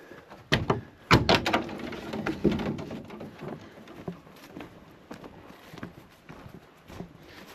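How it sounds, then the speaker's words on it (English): Cab door of a 1975 Mack FR700 8x4 truck opening, with a few sharp metallic clunks and latch clicks close by, followed by quieter rustling and faint knocks. "Let's get this other door open here."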